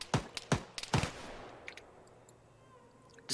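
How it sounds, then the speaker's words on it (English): Three sharp gunshots in quick succession in Arma 3, followed by fainter scattered shots in the distance and another loud crack at the end. "Just follow the gunshots at this point."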